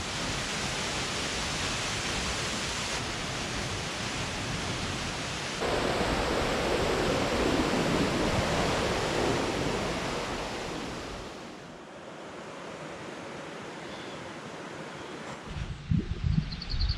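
The Cascade de la Noise waterfall, dropping over 70 metres in the Vercors mountains, gives a steady, loud, broadband roar of rushing water. It eases somewhat near the end, with a few knocks, and there is no talk.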